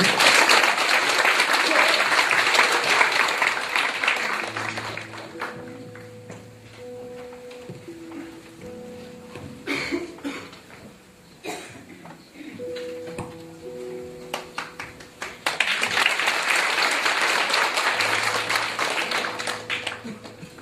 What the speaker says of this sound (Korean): 우리 최연섭 형제 박수로 환영합니다